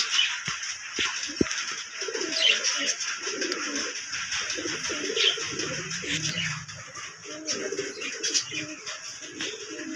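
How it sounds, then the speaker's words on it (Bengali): Pigeons coo repeatedly in a home loft holding many birds, including young ones, with soft rustling and shuffling throughout and a few sharp knocks near the start. "ঘরে অনেকগুলো পায়রা আছে দেখতেই পাচ্ছেন"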